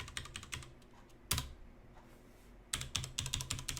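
Password keystrokes tapped out on a computer keyboard, with quick clusters of clicks, one sharp keypress, a pause with no typing, then a final flurry of keys, close and clear.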